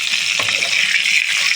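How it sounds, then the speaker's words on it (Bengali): Pointed gourd pieces frying in oil in a pan over normal heat, a short burst of steady bright sizzling and crackle, close and alone. "নর্মাল আঁচে রেখে আমি পটলগুলো ভেজে নেব।"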